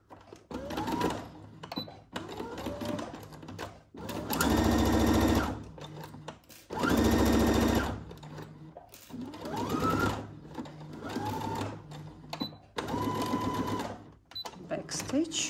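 Sewing machine stitching a shoulder seam on a Simplicity 1802 garment, with several loud bursts of rapid mechanical whirring between stretches of close talk, the longest two runs near the middle.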